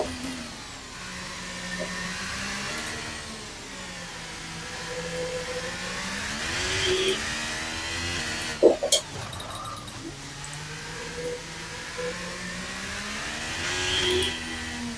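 Formula 1 car engine in a Monaco racing sim, droning and whirring steadily with repeated throttle blips that rise and fall in pitch, plus a brief sharp clatter partway through.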